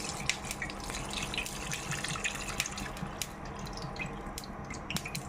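Thick coconut milk being poured into a cassava leaf stew gives soft liquid trickling and small drips, with a few light clinks, quiet and close without talk.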